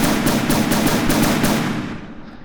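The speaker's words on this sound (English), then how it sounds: "we have the 36mm 6-barreled anti-aircraft weapons" Rapid, loud burst fire from 36mm six-barreled anti-aircraft guns on a warship in From the Depths, a dense rattling stream of shots that fades out at the end, with no voices.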